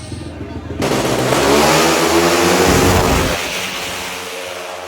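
An RS8 G Racing 232 motorcycle engine revs hard on launch control, a loud, rough sustained roar near the microphone that swells and then eases, with voices talking over it.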